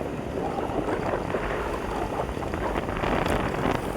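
A steady engine rumble mixed with wind and water noise fills the air, consistent with a motorboat approaching, near Jomalig Island.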